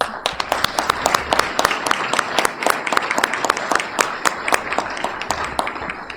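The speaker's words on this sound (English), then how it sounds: "Let's give them an applause." A small audience at a Virginia governor's education announcement claps for chronic absenteeism task force members, the individual claps distinct and crisp in a loose, uneven patter that never swells into a roar.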